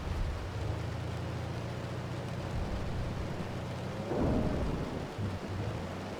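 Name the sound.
hail and thunderstorm hitting a moving car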